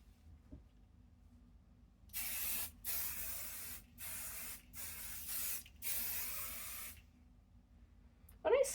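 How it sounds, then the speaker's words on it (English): Spray adhesive hisses from an aerosol can onto a quilt laid flat on a table for basting, in a series of short close bursts with brief pauses between them, and no talking. "When I spray, I kind of do a box."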